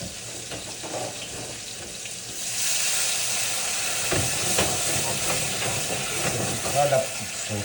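Water poured into a hot pan with pork chops bursts into a loud, steady hiss of steam and sizzle that swells and holds, with faint clinks near the end.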